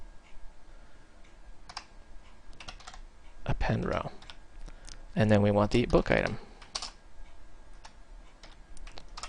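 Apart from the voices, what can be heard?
typing on a computer keyboard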